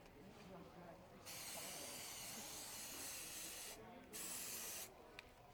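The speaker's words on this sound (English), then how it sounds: "Here, let me spray your rag or something." A spray can hisses onto a rag in a long burst during countertop epoxy work, pauses briefly, then sprays again shorter, loud and close against a quiet background.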